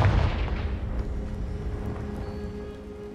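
Fiery spell blast in the Hogwarts Legacy video game, a loud booming explosion at the start that decays into a long rumbling, crackling tail with no talk.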